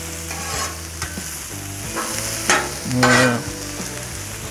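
Onions sizzling on a Cuisinart 360 griddle with scraping and tapping of a spatula, a steady close sizzle under intermittent clanks, and a brief voice at one point.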